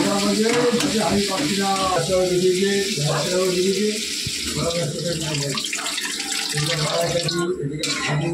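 Water poured into fried spice masala in a pan while cooking fish curry, a steady wash of liquid hiss and sizzle running throughout, with someone talking over it.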